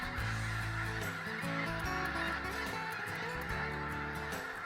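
A large flock of snow geese fills the air with dense, continuous honking, many overlapping nasal calls layered into a loud, steady chorus.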